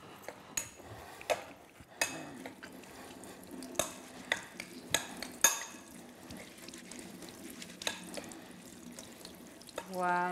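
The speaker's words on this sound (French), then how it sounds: "Et là, je commence à mélanger." Parsley and oil are stirred in a pan with a utensil, giving scattered metallic clinks and scrapes against a quiet background, spaced irregularly throughout.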